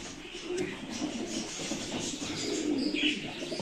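Pigeons coo softly in low, throaty bursts amid a busy outdoor background, with faint chirps and distant murmuring.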